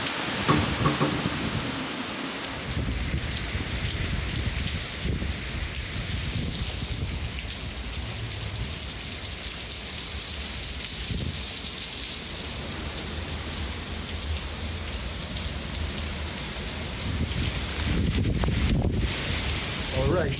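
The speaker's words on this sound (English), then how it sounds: "the rain is coming down really, really hard." Heavy rain pours down hard in Jamaica during Hurricane Beryl, a loud, dense and steady roar with wind gusting through it, swelling stronger near the end; a voice speaks briefly under the downpour.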